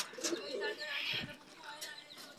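Racing pigeons arrive at a loft with soft cooing and fluttery calls, fairly faint and mixed with people talking nearby.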